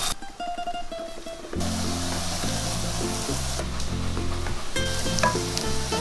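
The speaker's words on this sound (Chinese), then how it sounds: "取一个平底锅，加入少许食用油，把小饼放下来，小火煎。" Okara and egg pancakes pan-fry in a little oil in a flat pan over low heat, giving a steady, even sizzle that runs beneath background music throughout.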